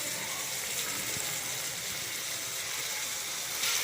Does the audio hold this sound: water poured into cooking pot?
yes